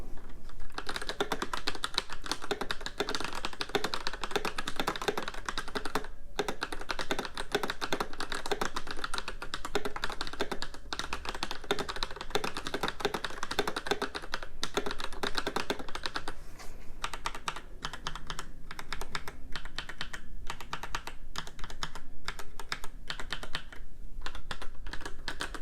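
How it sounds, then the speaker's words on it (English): Steady, fast typing on a Razer Blackwidow Elite full-size mechanical keyboard with yellow switches, a dense stream of close, crisp keystrokes that continues without pause, with no talk. "this is gonna be a quick typing test of the RAZER Blackwidow Elite full-size keyboard"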